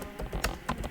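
Keystrokes on a computer keyboard, a quick run of several close, light clicks in uneven rhythm, heard alone.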